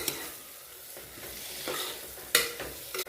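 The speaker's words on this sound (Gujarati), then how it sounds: "ગવારને આપણે એકથી બે મિનિટ માટે તેલની અંદર સાતળશું" Cluster beans (guvar) are stirred and sautéed in hot oil, a quiet sizzle broken by spatula scrapes against the pan, with sharper clinks near the end.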